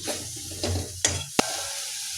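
Gram flour (besan) cooks in a pan with soft sizzling and stirring scrapes, broken by a couple of sharp clinks or bursts of spray, close and fairly quiet.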